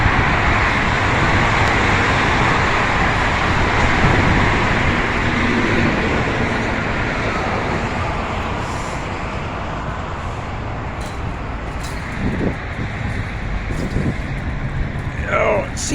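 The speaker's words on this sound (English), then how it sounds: "I hate how loud the traffic is here" Loud street traffic, including passing vehicles and a RAPID bus route, makes a dense, continuous roar heard while walking at night, with occasional brighter whooshes and squeals near the end.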